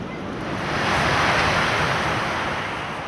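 Atlantic ocean surf on the coast of Senegal, a steady broadband roar of breaking waves that swells toward the middle, close and loud, with some wind noise and no voices.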